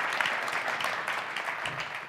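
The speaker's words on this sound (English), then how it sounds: "Let's give them a round of applause." An audience applauds at a forum on opportunity zones, a dense, steady wash of many hands clapping throughout, with no voices over it.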